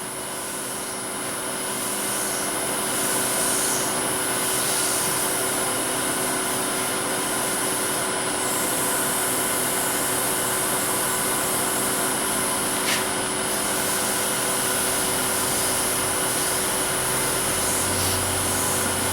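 A woodturning lathe spins at about 2,000 rpm while a lidded ring box is turned, a loud, steady whirring drone with a high whine that ramps up at the start and holds unchanged.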